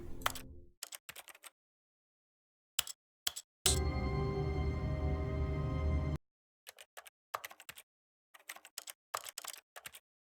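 Keys clatter on a computer keyboard during a Stanley Parable gaming session, coming in short scattered bursts of clicks with pauses between them. A louder sustained game sound plays in the middle, and nobody talks.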